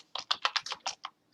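A computer keyboard is typed on in a quick run of about eight crisp, close keystrokes entering a command at a command prompt, with a brief pause before one last key.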